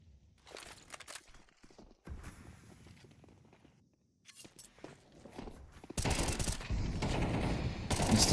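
Sniper rifle shots ring out during a competitive esports video game match, landing among scattered gunfire and footsteps before a dense, loud wall of battle noise takes over near the end.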